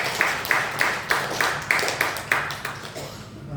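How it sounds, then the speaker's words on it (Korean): A church congregation claps in a steady, rhythmic beat, about a dozen evenly spaced sharp claps that soften and fade toward the end. "우리 힘내라고 박수 한번 크게 합니다"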